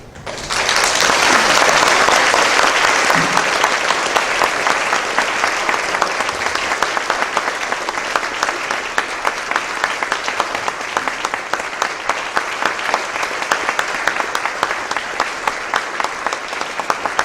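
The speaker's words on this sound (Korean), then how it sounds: "다시 한 번 더 뜨거운 박수로 축복합니다." A church congregation claps warmly at a Korean service installing an elder pastor: a loud, dense burst of applause that holds steady, then thins into a long run of rhythmic, evenly spaced claps.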